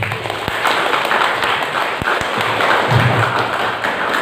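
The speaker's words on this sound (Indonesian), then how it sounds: "kita tepuk tangan lah sedikit dulu" Scattered audience clapping at a national seminar on gender, femininity and sexuality, a loose patter of hands mixed with taps and thumps, moderately loud and steady under a faint murmur of voices.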